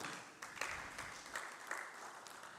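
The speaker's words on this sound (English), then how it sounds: "Please clap." Scattered clapping from a modest audience at a sensitization programme for law enforcement agencies, fairly faint and uneven, with a few sharper claps standing out over a roomy background.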